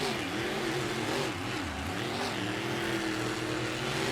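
Racing trucks powering through a switchback on a San Antonio dirt course, a loud continuous engine roar that wavers in pitch as they climb and settle, no talk heard.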